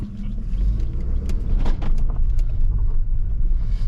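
A Jaguar S-Type car drives up a road, its engine rumble heavy and close and steady throughout, with small knocks and rattles over the low drone.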